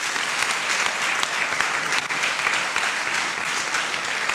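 Congregation applauding the Lord at the close of a prayer during a church service, a steady, dense wash of clapping from a large crowd that holds at full strength throughout without pause.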